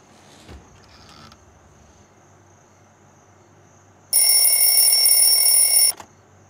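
An old-style telephone bell rings loudly and continuously for about two seconds after quiet room noise, then cuts off abruptly, with no talking.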